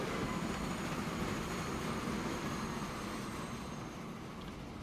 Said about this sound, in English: Here comes the new train with a lot of iron ore.